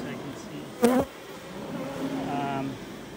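Honey bees at an open beehive with capped brood frames, heard as a close, steady low buzzing hum that runs through, broken early by a brief sharp knock or handling noise.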